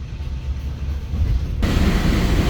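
The Jatiluhur local commuter train in Indonesia rumbles along with a low, steady roar that swells suddenly louder partway through, with no talk.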